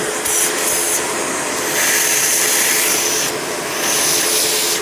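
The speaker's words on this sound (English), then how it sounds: "There's the suction relief valve kicking in." Steady airy rush from a Panasonic MC-V5217 upright vacuum as its suction relief valve opens, with the hiss rising and shifting in pitch partway through, loud and close with no talk.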